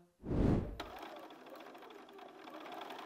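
A sewing machine sews the rows of an Ohio Star quilt block together, starting with a loud low thump and then running as a steady, fairly quiet mechanical whir.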